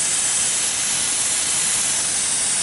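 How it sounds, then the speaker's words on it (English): Brake cleaner sprays in a loud, continuous, close hiss onto the ball joint threads of a GMT-900 Chevy/GMC/Cadillac truck, holding steady throughout. "clean off all the grease and lubricant with brake cleaner"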